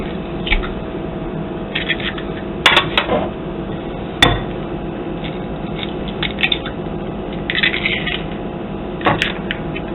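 Eggs cracked against a bowl while making anolini filling, giving a few sharp taps and knocks amid clinking dishes and soft kitchen handling sounds, with no talking.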